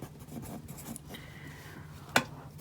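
An equation being written by hand, soft scratchy pen or pencil strokes on paper in short bursts, fairly quiet, ending with one sharp tap.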